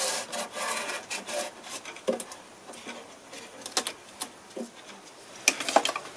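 A hand file rasps at the wood of a broken guitar headstock being repaired. Close, uneven scraping strokes come in quick succession, with no voices.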